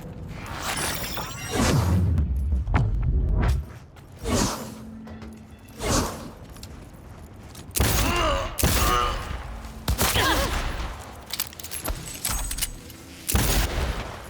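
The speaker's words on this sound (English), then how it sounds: "You can ricochet bullets." Ricocheting bullets in a video game fire in scattered bursts of sharp, ringing shots with metallic swishes and clatter, separated by short lulls across the stretch.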